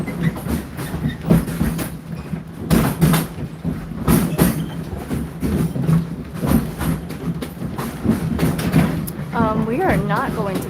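The Disney Animal Kingdom train rolls along with rhythmic clacking and rumbling, loud and close, while people talk over it throughout.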